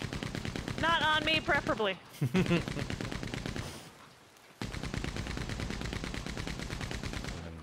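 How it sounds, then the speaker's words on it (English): A Gatling gun fires in Red Dead Online as a dense rattling burst of rapid shots, followed by a pause and then another sustained stream of fire, with people talking over it. "Yeah, you can use the Gatlings."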